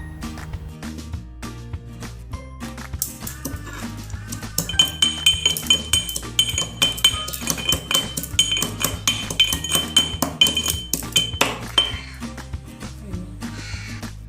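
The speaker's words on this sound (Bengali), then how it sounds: "এখন আমরা আদা কুচিগুলো ছেঁচে নেব।" Chopped ginger is pounded with a pestle in a mortar while making paneer masala, a run of sharp, hard knocks and clinks that grows louder and faster in the middle, over steady background music.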